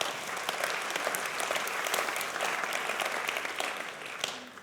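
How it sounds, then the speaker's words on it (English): Audience members at a State of the City event clap together in a warm, sustained round of applause that holds steady and thins slightly toward the end. "Let's give them a round of applause"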